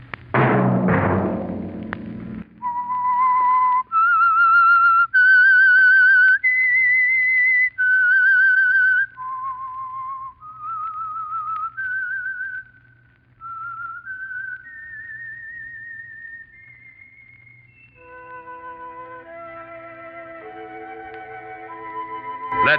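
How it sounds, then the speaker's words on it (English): A clear, solo whistled melody, the theme tune of The Whistler radio show, rising and falling in steady held notes over a faint background hum, opening with a brief orchestral chord. "Let that whistle be your signal for the Whistler each Wednesday night at this same time."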